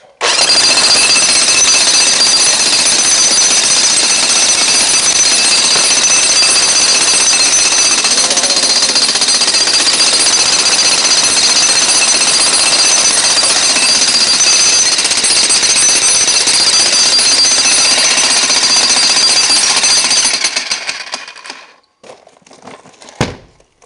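A Bosch Brute electric breaker hammer pounds concrete in a loud, continuous rapid hammering close by for about twenty seconds, then cuts out with a few trailing clunks.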